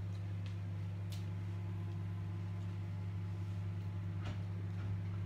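Clams cook inside a running microwave oven in Qingdao, a steady low hum with a few faint pops and ticks from the shells opening scattered through it.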